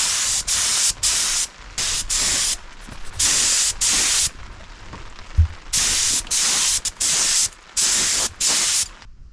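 Bursts of aerosol spray lay clear coat over Rustoleum metallic flake paint, close and loud, with about a dozen hissing passes of roughly half a second to a second each, broken by short quiet gaps.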